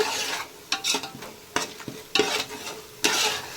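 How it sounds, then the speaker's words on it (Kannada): Greens and masala fry in a pan for a nati-style donne biryani, giving a hissing sizzle that swells each time a spatula scrapes and stirs through the mix. "ಅಲ್ಲಿವರೆಗೂ ಕ್ಲೀನಾಗಿ ಫ್ರೈ ಮಾಡ್ಕೊಳ್ಳೋಣ"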